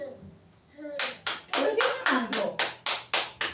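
A church congregation applauding, a series of rhythmic clap bursts that start after a moment of low voices and swell into steady, fairly loud, evenly spaced claps.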